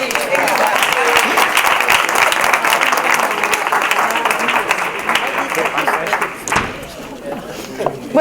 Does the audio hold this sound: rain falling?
no